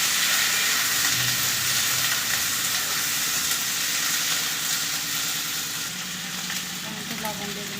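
Chopped garlic, ginger, chilli and onion frying in a pan for chilli paneer, a loud steady sizzle throughout with light stirring scrapes near the end.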